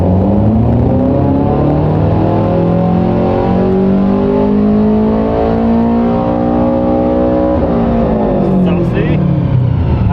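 A 2022 Subaru BRZ on a dyno makes a loud, sustained third-gear pull, its engine note climbing steadily in pitch before dropping off near the end, with brief talk over it.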